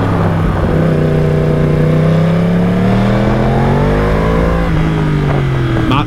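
A Yamaha R1 sport bike with about 200 horsepower and short gearing accelerates hard in first gear, a loud, close engine note that climbs steeply in pitch and keeps rising across the clip.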